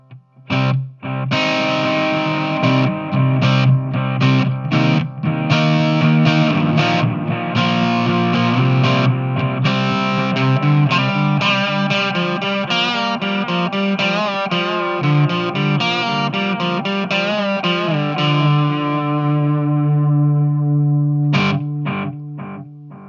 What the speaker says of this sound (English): So back to the Strymon right now with a little bit of overdrive.